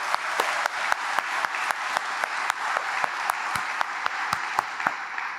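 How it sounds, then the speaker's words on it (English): Steady applause from an audience honoring alumnus John Ryan, a dense wash of many hands with sharp individual claps popping out at regular intervals, sustained throughout without talk. "We should all give him a round of applause."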